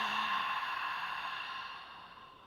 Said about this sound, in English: Take a deep breath in and just out through the mouth as if you're fogging a mirror.